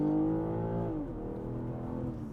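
A BMW M440i Gran Coupe with the B58 engine and all-wheel drive accelerates at full throttle, its engine note a loud, steady interior drone that climbs in pitch, then drops briefly at a gear change and pulls again.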